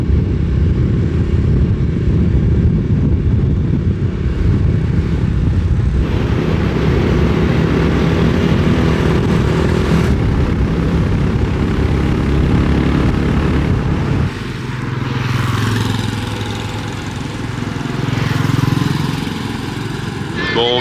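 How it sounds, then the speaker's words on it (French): A scooter engine drones steadily while riding a mountain road near Cao Bang, Vietnam, with heavy wind rumble over the buzz; the engine note shifts partway through and a voice talks briefly near the end. "on prend un scoot et on part découvrir les alentours en scooter"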